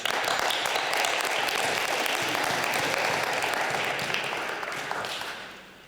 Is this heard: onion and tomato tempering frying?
no